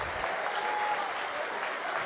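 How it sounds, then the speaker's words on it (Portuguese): A church congregation at an evening service gives a brief burst of steady clapping, moderately distant and uniform throughout with no voices standing out. "dá uma salva de palmas"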